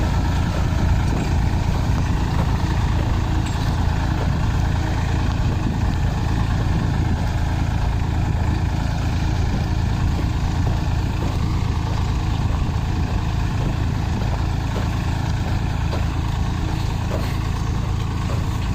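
A Massey Ferguson 240 tractor runs steadily with a drip tape laying machine in a corn field, its engine a continuous close, loud rumble with a slight rise in revs and no talk over it.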